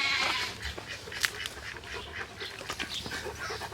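A 2.5-month-old lamb bleats faintly on a farm, with sheep, ducks and a turkey nearby, its short calls mixed into steady broadband outdoor noise and wind without clear talk.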